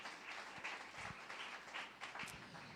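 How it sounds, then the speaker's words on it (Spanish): Congregation applause in a church: a faint, distant wash of many hands clapping, steady and diffuse, with a few soft thumps underneath. "Dale ese fuerte aplauso a Rey de Reyes y Señor de Señores."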